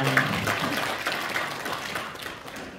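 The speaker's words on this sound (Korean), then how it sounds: "다시 한번 큰 박수 부탁드리겠습니다" An audience at a Korean environmental awards ceremony applauds, a steady patter of many hands clapping at moderate distance that fades slightly toward the end.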